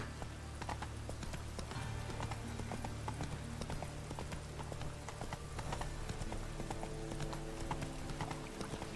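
Roach, a horse in the video game The Witcher 3: Wild Hunt, gallops with a rapid, steady clip-clop of hooves, with faint game ambience beneath.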